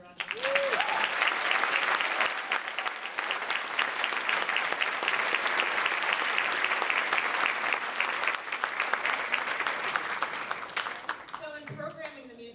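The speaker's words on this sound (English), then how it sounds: "Can you give them another round of applause?" A concert audience gives the school band a long, dense round of applause that holds steady for several seconds and then tapers off, with a brief voice at the start and end.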